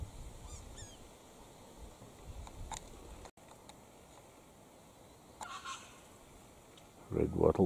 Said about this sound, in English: Red wattle bird